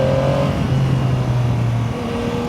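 A Yamaha Tracer 9 GT+ touring motorcycle accelerating in automatic shift mode, with a loud, steady, close engine drone whose pitch holds and shifts slightly, then drops a little toward the end.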